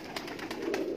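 A pigeon coos in a brief, close run of soft repeated calls over a steady background, a short burst from a breeding bird.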